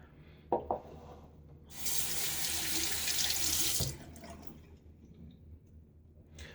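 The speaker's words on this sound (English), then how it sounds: "I'm going to mix, put a little bit more water in with this lather." A bathroom tap runs for about two seconds into a sink to add water to sandalwood shaving lather, a close steady hiss framed by small clicks and handling noises before and after.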